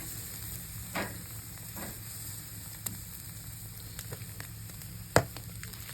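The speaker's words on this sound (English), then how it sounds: "A nice sear going on these." Mushrooms, potatoes, garlic, onions and carrots sear in a pan at a boreal hunting camp, a soft steady sizzle with a few faint clicks and one sharp metallic knock, no talking.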